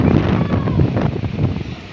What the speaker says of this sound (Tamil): காற்று பலமாக அடிக்குது கைஸ். காற்று சவுண்டு கேட்கும்.